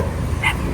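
A single dog bark, one of many dogs kept at a home, sounds briefly at middle distance over a steady low background rumble.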